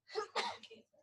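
A single sharp sneeze, close and abrupt, bursting out in two quick parts and lasting under a second.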